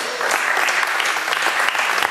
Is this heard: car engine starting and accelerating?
no